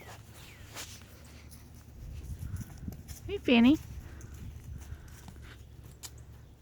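An old horse of about 25 walks on a farm, its hooves clopping softly and steadily against a low background rumble, with a brief spoken greeting partway through.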